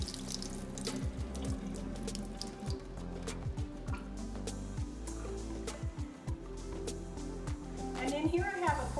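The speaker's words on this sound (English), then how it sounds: "So I've got my cashews here all soaked and ready to go. Just gonna give them a little strain." Soaked cashews being strained as water drains and drips into a sink, a steady trickle with scattered drips, close by and moderately loud, with a brief louder splash near the end.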